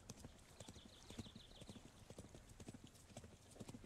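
Small horse's hooves in the Thronefall strategy game, a quick, steady clip-clop of soft hoof taps, faint and continuous, with a light chime-like jingle partway through.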